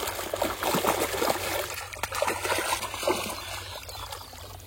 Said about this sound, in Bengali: তো মোটর চলতেছে, একদম এখান থেকে ধুয়ে নিয়ে চলে যাবো বাড়ি।